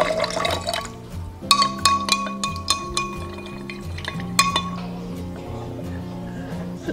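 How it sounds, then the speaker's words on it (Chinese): A spoon stirring homemade loquat syrup into warm water in a cup, with close, bright clinks against the glass and soft liquid swirling, repeated irregularly before fading. "加入450度的温水搅拌至融化"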